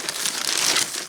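Packing paper being crumpled while unboxing action figures and toys, a quick burst of dense crinkling lasting about a second, close and loud with no voices.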